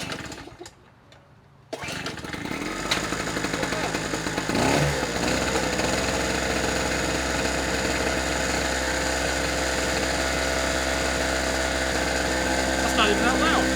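A cheap portable gasoline generator bought on Amazon starts after a quiet pause and then runs at a steady, fairly loud drone close by.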